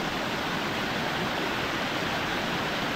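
Water flowing in a forest stream beside a village crab-catching spot, a steady broadband rush close to the listener, with no voices and no breaks.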